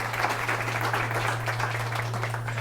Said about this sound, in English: please help me giving a warm round of applause to Dr.